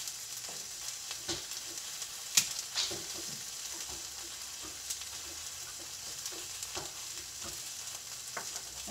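Garlic cloves, still in their skins, fry in a pan with chicken, giving a steady low sizzle with scattered small pops and crackles, fairly faint, no talking.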